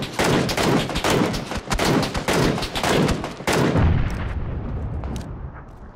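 Loud, close gunfire in PUBG, rapid bursts of automatic shots for about three and a half seconds, then a few scattered shots fading into a decaying echo.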